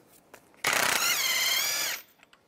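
An 18mm socket on a power tool removing a bolt from a mount on a 2006-2011 Cadillac DTS during serpentine belt tensioner replacement, a loud, close whirring burst lasting just over a second that rises in pitch as it runs.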